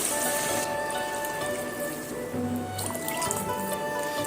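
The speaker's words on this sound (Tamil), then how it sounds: "3 கப் தண்ணி விட்டுக்கலாம்." Water pours and trickles into a pot of rice for jeera rice with splashy, uneven gurgles, close by, without any talking.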